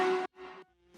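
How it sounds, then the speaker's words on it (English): Bright, harmonically rich lead synth layered from Serum presets and a lead shot sample, sounding two short sustained stabs separated by a gap, then a fading tail and a fresh attack at the end. "I used 1 lead shot sample and 2 serum presets that sound like this."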